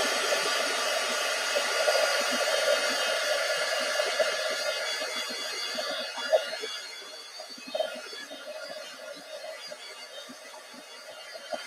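A hair dryer blows over a painted art journal page, a steady whining airflow hum that fades slightly over time, with occasional small knocks and handling sounds.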